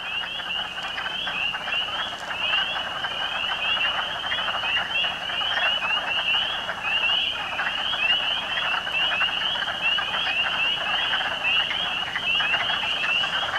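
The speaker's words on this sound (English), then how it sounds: "I wait for the little peeper frogs to come out, then I run up to the top of Sleeping Giant just so I can listen to them." Spring peeper frogs call in a dense, continuous chorus of high, shrill peeps, loud and steady from start to finish with no pauses.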